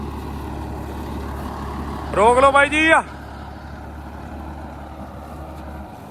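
A Sawraj 969 tractor pulling a 9-foot rotavator runs as a steady low drone throughout, while a man calls out briefly over it.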